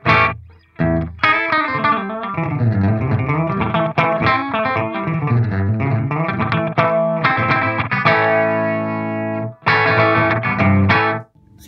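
An electric guitar plays through a Musiwewe Light Purple delay pedal set to its minimum delay time. Loud, distorted notes and chords sound alone, with short slapback echoes thickening the melodic phrases and a few brief pauses between them.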